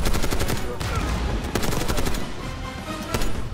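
Light machine gun fire in Call of Duty Black Ops 6, rapid sustained bursts with sharp repeated cracks, loud and close, with brief pauses between bursts and other gunfire mixed in.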